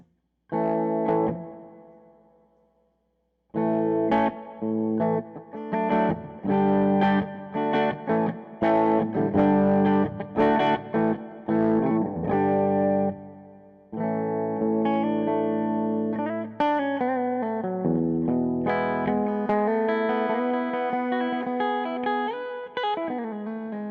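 Distorted electric guitar on the bridge pickup of a Minarik Inferno Mirrorball plays a bright, crunchy riff of chords and single notes, with short pauses between phrases and a sustained ending.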